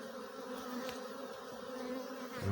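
A honey bee swarm hums in a steady, dense drone, close and continuous, with no voices over it.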